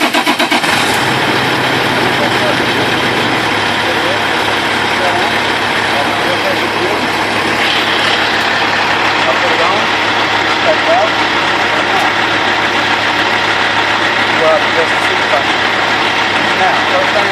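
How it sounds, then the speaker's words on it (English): A truck engine starts during a pre-trip inspection, then settles into a steady, loud, close diesel idle that runs on evenly with no change in pitch. "I go ahead and start the vehicle."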